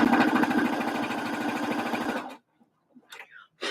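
A sewing machine runs steadily for about two seconds, stitching fabric circles for a bucket hat, its fast rhythmic whirring close and even, then stopping abruptly, followed by faint handling noises and a brief voice.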